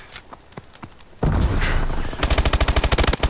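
An automatic turret fires in a video game shootout: scattered single shots give way to a dense burst of roaring fire and then a rapid, evenly spaced volley of loud shots.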